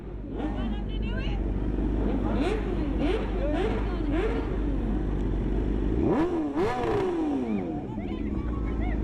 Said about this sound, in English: There's an Aprilia over there, 660. Does he want to rev it?